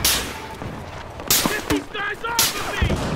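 Sniper gunfire in the Battlefield Hardline video game: several sharp, loud shots spaced irregularly over a few seconds, with brief in-game voices and background battle noise between them.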